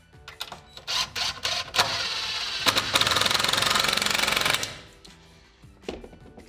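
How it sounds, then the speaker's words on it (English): Power drill driving screws into a wooden blocking piece fitted between two wall studs, with short bursts and then a steady whirring stretch of several seconds amid clunks and handling sounds. "I'm going to be screwing it in with 2 screws from each side, fit directly between those two studs"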